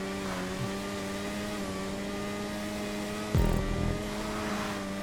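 The fastest HSW-class car driving in a GTA 5 race, its engine a steady tonal drone with one brief louder burst partway through, no talking.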